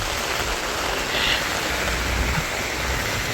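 Rain falling on a street in Al Satwa, Dubai, a steady broadband hiss of heavy rainfall with wind, continuous and close, with no talking.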